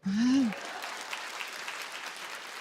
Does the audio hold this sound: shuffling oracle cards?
no